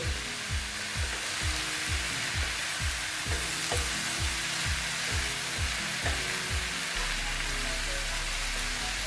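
Green chillies drop into a pan and fry with a continuous bright hiss, while a regular thumping beat pulses underneath through most of the stretch, close and steady with no talking.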